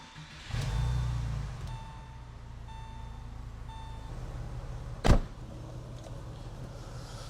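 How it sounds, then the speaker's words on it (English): A restored Porsche 996 with 177k miles starts up: a low engine rumble catches early and settles into a steady idle, with soft chime tones in the middle and one sharp knock near the end. "the only thing we have yet to do is fire this thing up and take it on a test drive"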